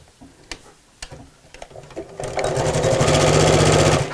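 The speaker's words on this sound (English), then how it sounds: "remember where I'm sewing along the side here to leave that little gap again" A sewing machine stitches the side seam of a tote bag, opening with a few slow single clicks, then running into a loud, fast, steady close-up whirr of needle strokes.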